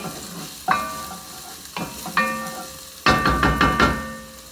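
Onions fry in a pot for a Peruvian cilantro beef stew, giving a steady sizzle broken by several sharp stirring scrapes and clinks, close and fairly loud, with no voices.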